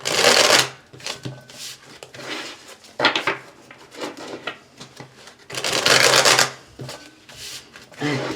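Tarot cards are shuffled by hand in several quick riffling bursts separated by short pauses, close and crisp, with no talking.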